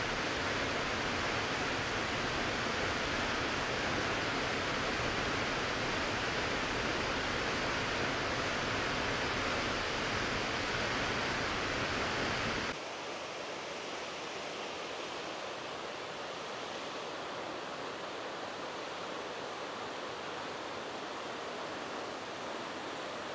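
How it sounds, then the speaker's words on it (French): A small waterfall at Khun Han, Thailand pours in a continuous dense rushing roar, steady and close, with the sound shifting to a slightly softer, duller wash partway through. "elle est sympa cette petite cascade"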